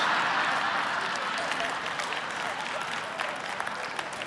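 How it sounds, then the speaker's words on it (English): Church congregation applauding during a sermon, a steady crowd of clapping that is loudest at the start and slowly eases off, with a voice faintly audible beneath it. "Yeah, you're applauding for that one"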